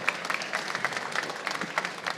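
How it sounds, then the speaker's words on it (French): Brief applause from a conference audience for a speaker at a geospatial data and BIM conference in Paris: scattered, fairly sparse claps in an uneven rhythm at moderate distance. "On peut vous applaudir."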